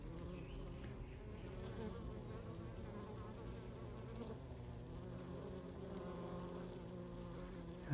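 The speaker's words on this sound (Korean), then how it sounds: "양벌이네요." A weak wild colony of western honey bees hums in a swarm trap box on a mountainside. The close buzz is steady and unbroken for the full length, alone without talk.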